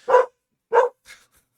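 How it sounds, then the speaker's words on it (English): A dog barks twice, loud and close, followed by a softer third bark, with silence between each. "why is my dog barking?"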